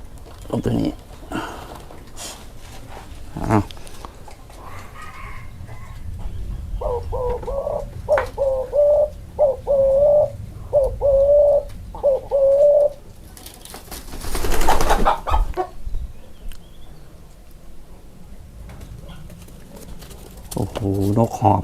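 A spotted dove gives a series of soft, rhythmic cooing calls, repeated in short bursts, with someone talking around them and some rustling nearby.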